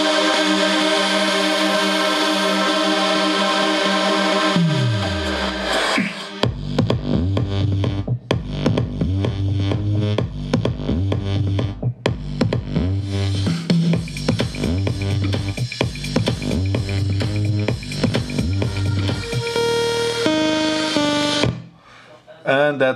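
Electronic dance music drop from a remix: a rising build and downward sweep give way to pounding kick and bass with bright synth chords, loud and continuous, with a brief dip near the end.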